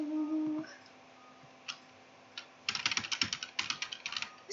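A loud computer keyboard typing in rapid bursts, close up, after a few isolated key taps and a brief low hum at the start, with no one talking.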